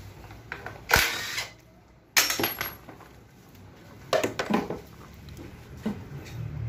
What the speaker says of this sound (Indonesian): Ini saya sisain 2 baut nih, kita buka dulu baut 10-nya.